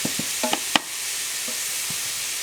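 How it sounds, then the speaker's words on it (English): Gala apples and mixed vegetables stirred in a frying pan, giving a few soft scraping and clinking knocks against a steady low sizzle, close and fairly quiet. "Give that a quick stir"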